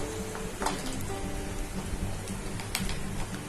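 Maida murukku rings seasoned with chilli powder fry in hot oil over a low flame, giving a continuous dense sizzle and crackle with scattered pops, steady and close.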